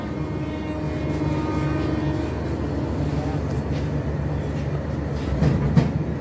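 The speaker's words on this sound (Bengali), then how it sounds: "চিলাহাটি এক্সপ্রেসকে দাঁড় করিয়ে আমাদের পঞ্চগড় এক্সপ্রেস কিন্তু টাঙ্গাইল ছেড়ে দিয়েছে।" The Panchagarh Express pulls out of Tangail station in Bangladesh, a continuous low rail rumble with faint clatter and a steady hum, building slightly near the end.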